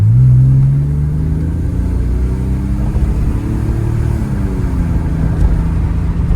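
A Porsche 911 engine hums steadily while driving, a loud, continuous low rumble with gentle rises and falls in pitch as the car pulls along, heard alone without talk.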